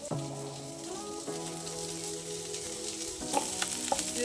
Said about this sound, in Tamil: நம்ம இப்போ தேங்காவையும் இந்த கூடயே வதக்கிடலாம்